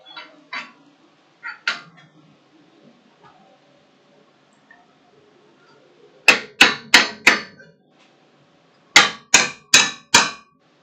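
Hammer blows ringing on a steel anvil in a workshop, two quick bursts of four sharp metallic strikes each, loud and close, after a few softer taps.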